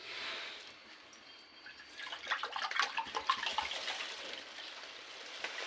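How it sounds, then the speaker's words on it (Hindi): Water poured into a pan on a gas stove while cooking chicken pasta, a broad splashing pour that starts softly and swells into louder sloshing over several seconds, heard alone without talk. "अब इसके अंदर हम वाटर ऐड करेंगे।"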